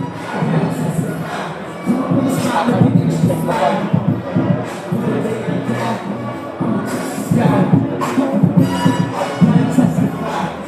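A crowd at the Corps of Royal Engineers boxing championships, on its feet as the boxers walk in, with a loud ongoing swell of cheering and shouting that rises and falls in bursts.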